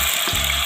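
Cumin and tomatoes dropped into a hot pan, giving a loud, steady, close sizzle that fills the whole brief moment, without any voices.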